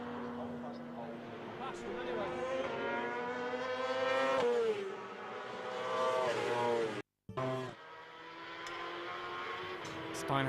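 Racing sidecar motorcycles scream past on the Sachenring circuit during the FIM Sidecar World Championship, loud high-revving engines rising and falling through gear changes, with a brief dropout midway, under a commentator's voice.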